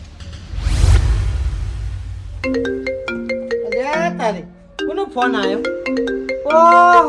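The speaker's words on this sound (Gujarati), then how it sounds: "ફોન આવ્યો" A mobile phone rings with an incoming call: a loud, melodic electronic ringtone repeats its bright phrases after a brief opening whoosh.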